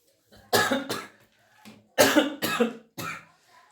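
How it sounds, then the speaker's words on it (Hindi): A series of harsh coughs, two bursts then three more in quick succession, loud and close. "खांसी ना जाएगी कभी भी"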